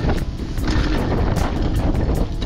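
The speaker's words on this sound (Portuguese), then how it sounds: "Está bué da vento." Strong outdoor wind gusting across the microphone at a downhill mountain bike dirt-jump spot in Figueira da Foz, a loud, continuous rumbling buffet with repeated sharper bursts.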